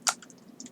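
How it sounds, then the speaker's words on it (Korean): Typing on a computer keyboard while coding in Android Studio: one sharp key click followed by several quieter, quick taps, close and dry with no talk. "그대로 그냥 키보드 타이핑을 그대로 해볼게요"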